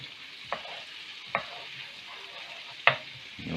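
Butter sizzling in a pan for Vegemite pasta, a soft steady hiss broken by a few sharp clinks of a utensil stirring against the pan.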